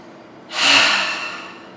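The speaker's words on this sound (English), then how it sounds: "Use your ujjayi breathing, that little constriction in your throat." A single ujjayi breath is drawn through the nose during a yoga flow practice, a soft hissing rush with slight throat constriction that swells quickly, then fades slowly. It is close and alone, with no talking.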